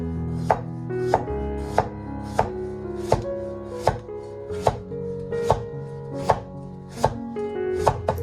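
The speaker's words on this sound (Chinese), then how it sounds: "准备1根黄瓜，先切成薄片" A knife slices a cucumber into thin pieces on a cutting board, giving a regular series of about a dozen crisp, close chops at an even, unhurried rhythm.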